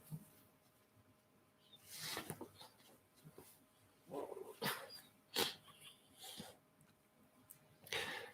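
A dog's short yips and whimpers come in scattered bursts, fairly faint, with quiet room noise between them.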